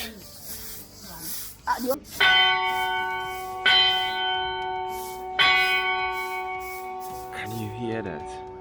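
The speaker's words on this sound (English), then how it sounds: "the bell just went" A church bell in Teteman, Ghana, rings three times at six o'clock, each strike loud and ringing out slowly, with some quieter sounds before the first strike and voices near the end.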